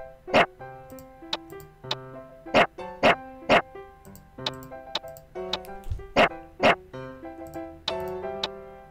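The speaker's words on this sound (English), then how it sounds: "I'm supposed to tap this at the same amount of times that this thing barks" Dog barking in the video game Forgotten Hill: Puppeteer: a series of sharp, loud barks in irregular groups over a quiet, tonal musical background, with no talking.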